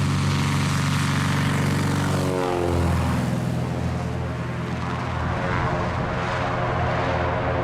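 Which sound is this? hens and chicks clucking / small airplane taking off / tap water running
small airplane taking off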